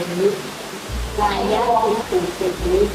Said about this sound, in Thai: เสียงซา่าที่ท่านได้ยินก็คือเสียงของน้ำตกภายในถ้า